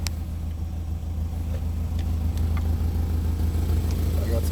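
Toyota Celica GT-Four engine running steadily at a low, even rumble, close and loud with no clear rise in pitch, heard from inside the car.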